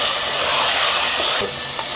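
Masala spices and mutton sizzle in a hot pan for a mutton kurma, a steady close hiss with a brief scrape of stirring near the end.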